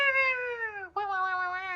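A kitten gives two clear, close meows, a long drawn-out cry that sags in pitch, then a brief break and a second sustained, plaintive call.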